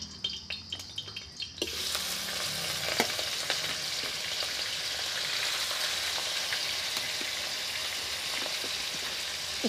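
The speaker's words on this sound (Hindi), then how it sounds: "रिफाइंड तेल हमारा गर्म हो गया, अब इसमें हम कटहल को फ्राई कर लेते हैं।" Jackfruit pieces drop into hot refined oil in a wok and erupt into a loud, steady crackling sizzle that continues close up, after a few light clinks at the start.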